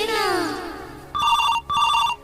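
A telephone rings indoors in two loud electronic bursts separated by a short gap, coming right after a voice speaks.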